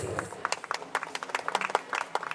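An audience applauds as guests are welcomed onto the stage at a grand finale inauguration, a moderate patter of individual claps over a voice speaking, the hand claps sharp and scattered rather than a dense roar.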